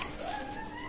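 A Teddy pigeon of Oman bloodline coos softly at a pigeon loft in Daulatpur, Khulna, giving one short, low, throaty call over steady background noise.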